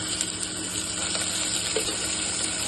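Ginger garlic paste frying in a pan for a green field bean curry, giving a steady, close, continuous sizzle that holds an even level throughout with no voices.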